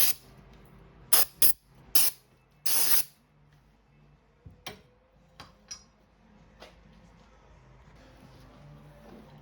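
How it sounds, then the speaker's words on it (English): Four quick hissing bursts of brake cleaner sprayed from an aerosol can, close up, inside a 2003 Yamaha YZ125 engine part, followed by quiet clicks and handling noises. "This I'm gonna spray inside just because it's pretty dirty in there."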